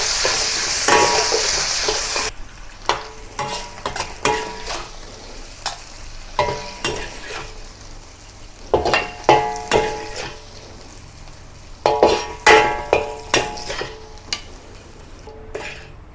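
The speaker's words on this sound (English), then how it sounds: "When both sides has turned color, have a quick stir and remove it from the wok." Beef sizzling in oil in a wok for beef with black bean sauce, a soft frying hiss punctuated by repeated sharp scrapes and clanks of a spatula stirring against the metal, close and uneven in rhythm.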